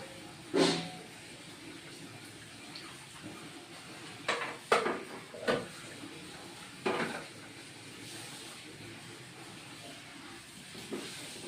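Sun-dried lentil dumplings (dal bori) frying in hot oil, a steady faint hiss broken by several sharp sputtering bursts and clinks, with no one speaking.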